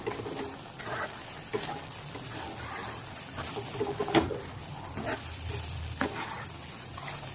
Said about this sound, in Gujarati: તો ખજૂર નાખીને આપણે સારી રીતે મિક્સ કરી લેવાનું છે.